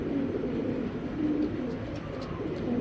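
Afsan grizzle racing pigeons coo in low, soft repeated calls from nearby, a warbling murmur that continues steadily with no talk.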